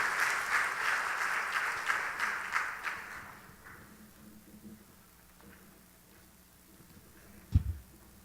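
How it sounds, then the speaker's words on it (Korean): Church congregation applauding during an evening worship service, a brief burst of dense clapping that fades out after a few seconds, leaving quiet room tone and a single thump near the end. "우리 박수 한번 주시기 바랍니다"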